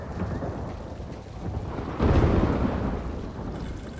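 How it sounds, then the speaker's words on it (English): Night thunderstorm over a caravan in the Mortal Kombat 1 video game: rain hisses steadily while a loud thunder rumble swells midway and slowly fades. "Lightning flashes over Shang Tsung's caravan at night."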